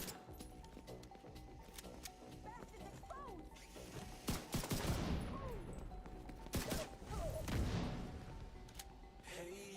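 Pistol shots ring out in the shooter game The Division 2, with sharp cracks scattered through a dense, busy mix of combat noise, clatter and effects that stays loud throughout.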